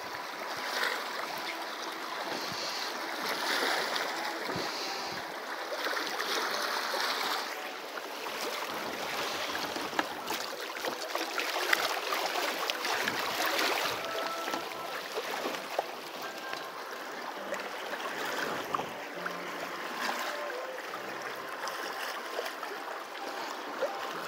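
Sea current flows past a sailboat becalmed near Ilha de Macuco, a continuous soft wash and trickle of water along the hull, faint and steady with small splashes, no voices.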